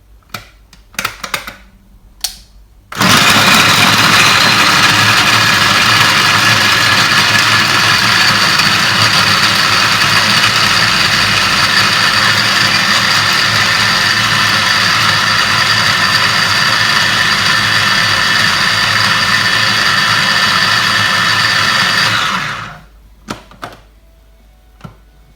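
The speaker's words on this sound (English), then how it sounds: "in a blender add chopped carrots and pulse until fine" A food processor chops carrots in a home kitchen, its motor starting abruptly and running loud and steady for about twenty seconds before cutting off, with small clicks and handling sounds before and after.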